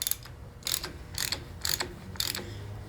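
A wrench ratchets while tightening the front wheel hub on a 1958-1964 Ford tractor during a front wheel bearing replacement, with five crisp clicking bursts in a steady rhythm, close and fairly quiet.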